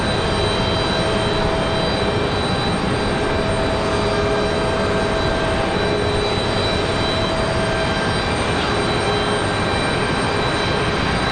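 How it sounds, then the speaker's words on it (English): Boeing 717 jet departing a windy Raleigh-Durham airport, a loud, steady broadband engine roar with faint tonal whine, continuous throughout with no voices. "I was hoping we would get to see this 717's departure"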